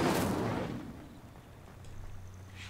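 An Incendio fire spell in Hogwarts Legacy erupts with a loud whooshing burst that fades over about a second, leaving a low hum and faint tones afterward, no talking.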